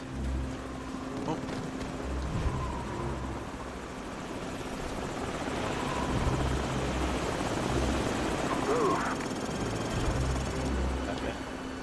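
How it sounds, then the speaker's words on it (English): Enemy helicopters in the video game Call of Duty 4 drone with steady rotor thumping throughout, loud and continuous, under bursts of radio-style voices and battlefield rumble. "Enemy helicopters."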